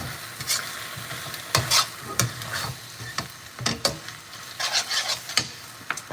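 Pad see ew stir-frying in a pan, with a steady sizzle broken by repeated scraping and tossing strokes of a utensil against the pan, close and fairly loud, no voices.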